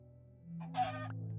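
Chicken in the Minecraft Skyblock video game giving one short, quiet cluck over a steady low game hum.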